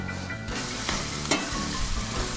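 Onions fry in a pan for stuffed quail with a loud, constant sizzle, broken by a couple of sharp stirring scrapes and some low rumbling in the background.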